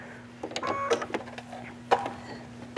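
A sewing machine fitted with a walking foot stitches a quilted jacket, giving a steady motorized whir with a few brief louder bursts, close by and with no talk.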